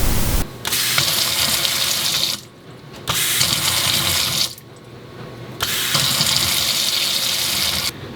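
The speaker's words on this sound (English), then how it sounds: "the water is now working" Water gushes steadily from a tap in an out-of-state rental home just after its water supply is restored, running in three long, loud bursts separated by brief pauses, with no voices over it.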